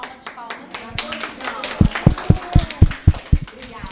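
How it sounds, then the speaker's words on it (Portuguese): An audience at a museum discussion circle breaks into applause, with loud, evenly spaced claps that build into a steady rhythm over voices talking. "Mais uma salva de palmas."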